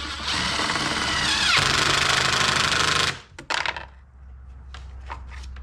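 A 10mm nut on a Jeep Wrangler EcoDiesel battery mount is run down with a socket on an extension, giving a loud continuous whirring rattle from a power driver that stops abruptly, followed by a few sharp clicks and clatters close by.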